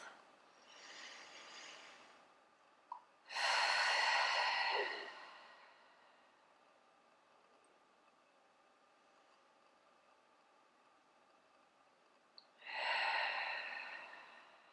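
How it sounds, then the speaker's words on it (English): Two long, deep breaths taken while seated after a foam roller massage at home, each a slow airy inhale-exhale swell, close and alone, with a quieter breath before and a third starting at the end. "Take 2 long, deep breaths."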